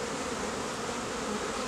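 A dense, steady buzzing hum of many honeybees from a rescued swarm fills the air continuously, close and even in loudness, with no voices.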